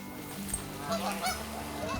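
Geese honk repeatedly at a Norwegian camp in Minnesota, a few overlapping nasal calls at moderate distance over a low steady background hum, with no talking.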